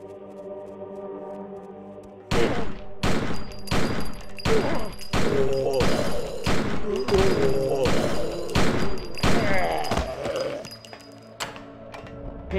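Rapid gunfire in the PC game Blair Witch Volume I: Rustin Parr (2000), with dense repeated loud shots and thuds for about eight seconds over a low ambient drone.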